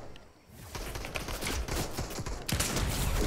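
Gold sniper rifle shots in Fortnite, a few sharp cracks mixed into a dense spell of in-game gunfire and battle noise.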